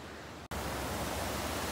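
Waterfall at a scenic falls in Laguna, a steady broadband rush of falling water that fills the clip loudly and evenly, with a brief dropout near the start.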